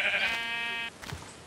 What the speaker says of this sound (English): the sheep's about to fall in there.